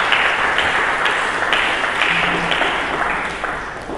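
A church congregation applauds for Jesus during an Indonesian sermon: a dense, steady wash of many hands clapping together for about four seconds, tapering slightly at the end.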